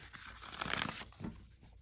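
A short burst of tarot cards being shuffled, papery riffling and rustling up close, rising then trailing off with a brief second flutter.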